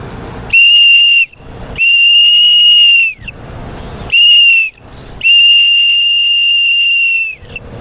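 A shrill whistle blows four times in a row, loud and close, with two longer blasts and two shorter ones separated by brief silences.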